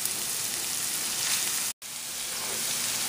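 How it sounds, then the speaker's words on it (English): Pepper flakes and ginger fry in a pan with a steady, even sizzle that holds throughout, broken by a brief cut of silence in the middle, with no one speaking. "So this has been frying up for about a minute"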